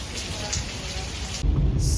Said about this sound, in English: it's still a light drizzle